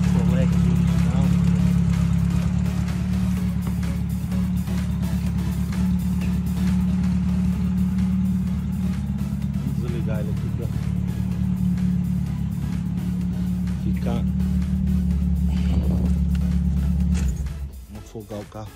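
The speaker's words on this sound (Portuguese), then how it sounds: "Afogar o carro para o som ficar melhor, pessoal." A 1966 Willys Interlagos Berlineta's original engine with its original Solex carburettor revs loudly and up close, holding a rough, throbbing drone with small rises in pitch before it cuts off near the end.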